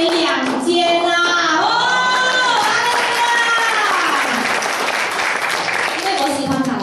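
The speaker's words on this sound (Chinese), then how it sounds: "我们拍手" Church congregation clapping hands in unison, continuous loud applause lasting the whole stretch while a preacher talks over it.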